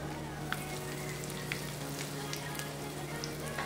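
Fenugreek, cumin, mustard seeds and asafoetida sizzle in hot oil for a pappu charu tempering, a steady close frying hiss with scattered tiny pops and crackles throughout.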